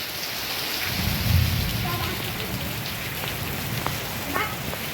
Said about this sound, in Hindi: ये एगो बारिश का मजा ले रहा है नहा के।